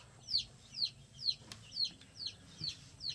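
Repeated high-pitched chirping peeps of baby chicks, about two per second, fairly close, over a low background hum.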